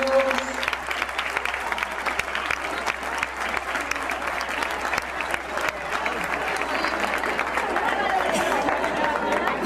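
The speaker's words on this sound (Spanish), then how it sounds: "Un fortísimo aplauso para ellos." An audience at a live show claps in dense, sustained applause, loud and steady for the whole stretch, with a murmur of crowd noise underneath.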